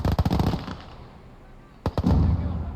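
Grenades burst in a Gates of Hell Ostfront match on the Nevel map, in a quick rapid cluster of sharp, loud blasts. A quieter gap follows, then another tight burst with rumbling decay.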